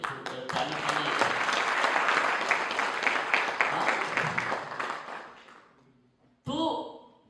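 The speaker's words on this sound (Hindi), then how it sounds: "बात अच्छी लगे तो छोड़कर ताली बजाइए।" An audience at a motivational talk breaks into loud, sustained applause that holds for about five seconds and then fades out, after which a voice begins speaking.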